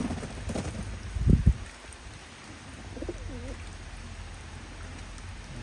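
Pigeons, both young birds and breeders, coo softly outdoors in the rain, with a short louder burst early on and faint warbling coos over steady rainfall.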